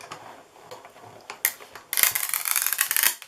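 Window sheet running through a die cutting machine during papercraft, a soft mechanical rubbing and ticking that swells into a louder, steady grinding crackle for the last second and a half.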